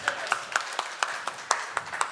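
Rhythmic clapping from an audience at a product showcase, about nine crisp, evenly spaced claps, fairly quiet and close.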